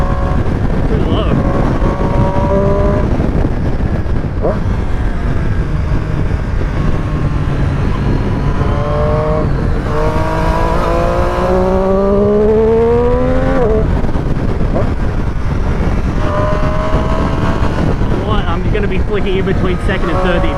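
Triumph 765 Street Triple RS motorcycle engine pulling through the revs on a ride, rising and falling whine under heavy wind roar, with a rider talking over it.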